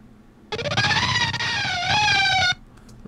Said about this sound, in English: So I transpose it down, then I add these two effect plugins on it.